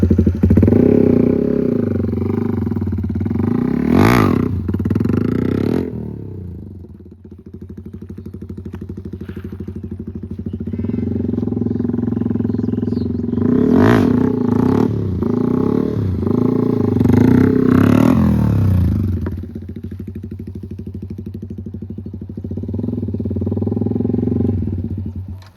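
A motorcycle engine revs repeatedly during wheelie practice, loud and close, rising in several throttle bursts with dips and a brief near-idle lull, plus a few clattering thumps.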